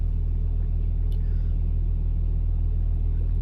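A turbocharged 383 V8 holds a steady, loud low rumble with a constant throbbing idle and no clear rise in revs.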